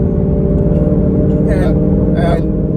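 A deep, throaty S550 Ford Mustang engine with an aftermarket Corsa exhaust idles with a steady low rumble, close by, while a voice speaks briefly over it.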